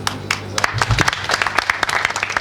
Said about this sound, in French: Et l'applaudissement pour M.